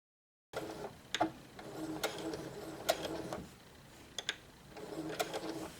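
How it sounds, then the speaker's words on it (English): A sewing machine stitching fleece and cotton fabric together around the edge of a cloth pad, a steady mechanical whir broken by sharp clicks and short bursts, close and fairly quiet with no talking. "we're going to sew all the way around and leave a little hole where we can turn it out"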